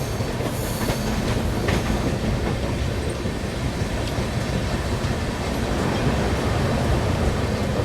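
The Kashi Vishwanath Express on the Delhi to Lucknow line gathers speed, a steady rolling rumble with faint clickety-clack from the wheels and occasional light squeals, heard continuously from inside a carriage.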